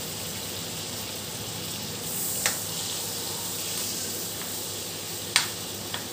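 Bottle gourd stems fry in hot oil with a steady, even hiss, broken by a couple of sharp spatters and pops, close and moderately loud, with no talking.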